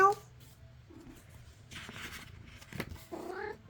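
A pet cat meows and caterwauls indoors at a craft table during junk journaling, several short close calls spread over a few seconds amid soft rustling, with faint human voice sounds in between.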